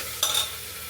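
Tadka for black and yellow dal hits hot oil with a sudden sharp sizzle that flares and then settles into a steady frying hiss, close and fairly loud, with no talking over it.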